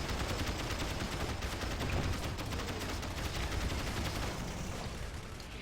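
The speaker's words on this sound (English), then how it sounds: "However, inferno cannons cannot outrange mortar pits." Inferno cannons firing artillery in the video game Rise of the Reds, a dense, continuous crackle of rapid explosive bursts and gunfire, loud and steady throughout, with no voices.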